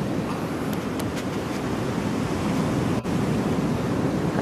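Ocean waves wash steadily onto the beach at Yura on the Tango coast, a continuous broadband surf roar with a light breeze, heard alone at moderate level throughout.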